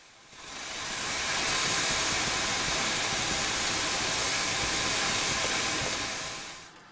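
Caledonian Railway 1 class steam locomotive in Train Simulator, a steady loud hiss of escaping steam with rumbling rail noise, building up quickly, holding constant for several seconds, then fading out.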